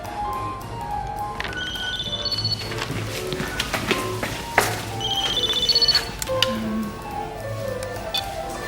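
A telephone rings in two electronic bursts a few seconds apart, set against a busy indoor background with scattered knocks and clatter.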